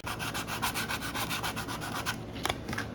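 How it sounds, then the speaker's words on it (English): Steady back-and-forth scraping of a flat 180-grit sanding block over a 1/10 scale Tamiya RC car plastic body, rhythmic strokes close by, briefly pausing near the end. "I take a flat sanding block, 180, brand new piece."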